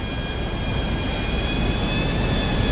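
A video-game jet plane in flight gives off a loud, steady engine roar and whoosh with a thin high whine, held constant and close with no talking.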